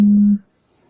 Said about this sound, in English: That sounded like someone trying to dial.